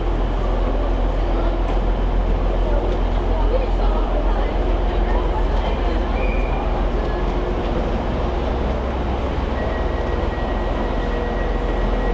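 A train idling and rumbling at a platform with a low, steady engine drone and faint station noise and voices in the background.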